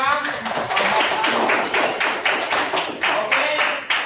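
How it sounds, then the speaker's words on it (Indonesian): A classroom of students applauding together, a steady patter of many hands clapping at a brisk, even rhythm for several seconds, close and fairly loud, with voices faintly mixed in. "kita berikan aplaus bersama-sama"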